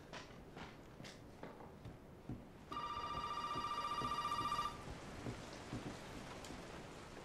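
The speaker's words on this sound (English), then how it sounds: "Fucking phone." A telephone rings in the Resident Evil 7 video game, a steady electronic trill lasting about two seconds over a constant backdrop of rain and distant thunder.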